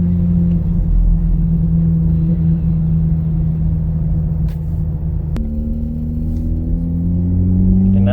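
A straight-piped Ford Fiesta ST being driven, its exhaust a loud, steady low drone heard from inside the car, with the pitch dropping at a gear change and then climbing again as it accelerates.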